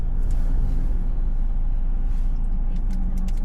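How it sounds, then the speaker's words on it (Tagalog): Steady road traffic on a mountain road, many vehicles passing, heard from inside a Ford Ranger pickup as a continuous low rumble and road noise with no clear individual passes. "Ang daming sasakyan."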